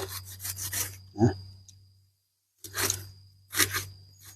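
Rough rasping strokes of a folding saw cutting through a bamboo shoot, a few bursts separated by a quiet pause, close up with a low steady hum underneath.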